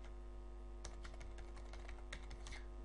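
Someone types an account name on a computer keyboard, a quick run of light, close key clicks after a brief pause, with faint electrical hum behind and no talking.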